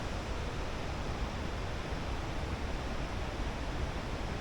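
A nearby mountain stream at a campsite in the Left Talgar valley, heard as a steady, even hiss of flowing water that stays constant in level throughout with no voices or other sounds.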